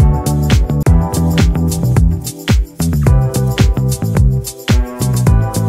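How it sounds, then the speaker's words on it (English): A rapid drum fill rolls across the kit, dense hits tumbling over a looping beat with bass and shaker underneath, loud and up close. "Drum fill."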